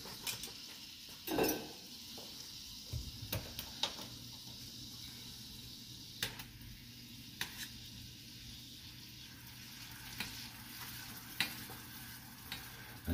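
Butter and lemon juice sizzle softly in a pan as a sauce is enriched, a faint steady hiss broken by occasional utensil clinks and stirring scrapes, heard close up without speech.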